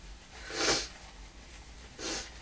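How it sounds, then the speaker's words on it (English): A person blows their nose twice, a short forceful nasal blast followed by a second softer one, close and alone in a quiet room. "I had to blow my nose too."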